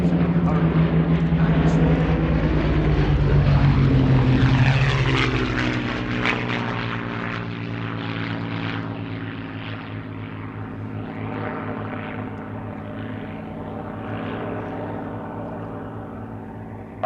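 A vintage propeller aircraft at the Shuttleworth display drones past with a loud, deep engine roar that peaks early, then recedes into a steady fading hum while a voice talks over it.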